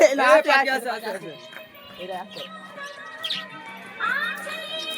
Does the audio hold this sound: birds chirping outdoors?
yes